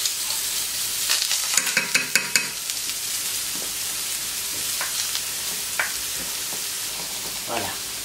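Tomato confit purée sizzles in a hot pan while a spoon stirs and scrapes it in a quick run of sharp clicks, then slower occasional strokes over a constant bright frying hiss, close up.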